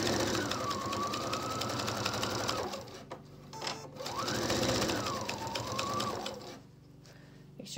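A home sewing machine stitches a pocket onto a Pendleton '49er shirt, whirring in two steady runs with a brief pause between, its motor pitch rising and falling, close and moderately loud.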